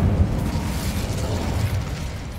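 Incendio fire spell cast in Hogwarts Legacy, a steady roaring burst of flame with low rumbling crackle holding loud and even for a couple of seconds, no talk.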